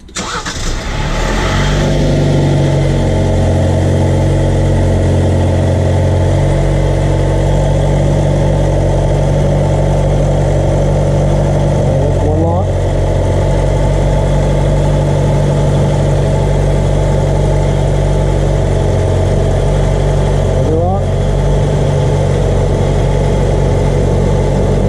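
A vehicle fitted with a FOX Factory Race Series 2.0 ATS steering stabilizer cranks and catches, then idles with a steady low rumble. Faint steering squeals rise twice as the wheel is turned from lock to lock.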